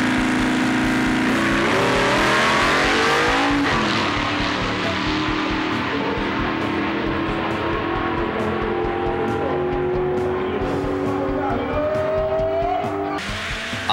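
A drag racing car at a 2009 Paraná championship event accelerates hard down a straight track, with a loud engine roar rising through the gears and tire noise that fades gradually as the car pulls away.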